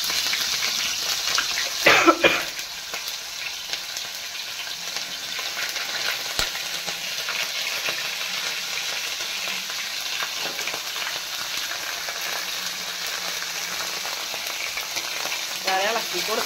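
Chicken biryani masala with green chillies and ginger-garlic paste fries in a pan with a steady, close sizzle, occasional stirring scrapes and a cough near the start.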